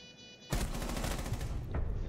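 Rapid automatic gunfire in Rainbow Six Siege bursts in loud and close after a quiet half-second, a dense continuous stream of shots with no talk.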